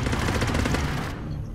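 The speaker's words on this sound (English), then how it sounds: "I got a machine gun, son" Rapid machine gun fire from the underwater shark video game Depth, a dense, loud, continuous burst of automatic shots that cuts off abruptly near the end, leaving a quieter tail.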